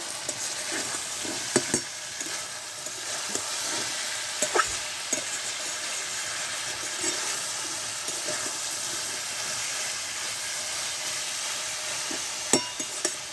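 Potatoes and pointed gourd sizzle steadily in a pan, a constant close frying hiss with a few sharp clinks and scrapes of a spatula stirring through.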